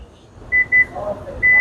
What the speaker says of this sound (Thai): กดแช่ไว้นะคะ อ่าให้เขาดังปี๊บนะคะ